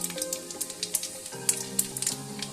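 Panch phoron spices sizzling in hot oil, a steady crackling fizz with small pops scattered throughout, close and moderately loud.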